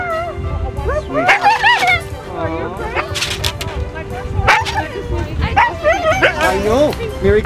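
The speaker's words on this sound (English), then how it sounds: "I love dogs. He's a puppy." A puppy yips and barks in short high bursts at a festive Christmas holiday gathering, close by and mixed with constant chatter and cheerful voices.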